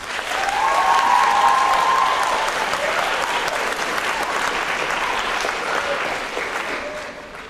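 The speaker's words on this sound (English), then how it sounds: "Please welcome the American Heritage Acapella Singers with a round of applause." An audience at a school district a cappella event gives the singers a warm welcome, loud applause swelling quickly, peaking early, then holding as a broad, steady patter of many hands before easing slightly at the end.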